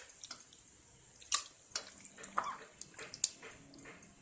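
Beef pieces being rinsed and washed in water in a kitchen, with soft splashes, drips and intermittent sloshing bursts at close range, fairly quiet and uneven in rhythm.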